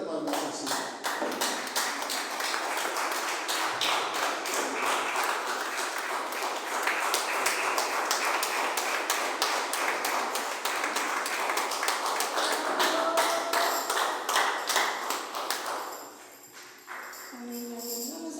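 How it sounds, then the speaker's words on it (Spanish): A church congregation claps together in a sustained burst of applause offered to God, dense and steady for about fifteen seconds before fading out, with some voices mixed in underneath. "Denle una ofrenda de palmas al Señor"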